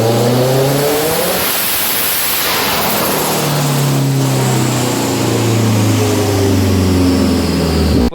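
A 400HP Mazda MX5 road car engine running loud and close, with repeated revs rising and falling in pitch, a deep throaty roar sweeping up and settling back down to a rumbling idle.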